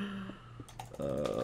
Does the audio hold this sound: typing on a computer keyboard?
yes